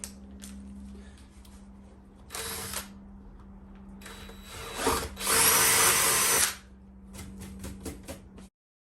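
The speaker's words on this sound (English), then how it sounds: "That is a very sharp drill." Bursts of an electric drill whirring and biting into a BMW M140i rear valance, several short runs and one longer loud stretch, with a steady low hum underneath.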